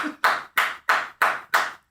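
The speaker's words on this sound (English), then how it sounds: "the first solo clap of the podcast" One person claps five times alone in a quiet podcast studio, each clap crisp and close with short, even gaps.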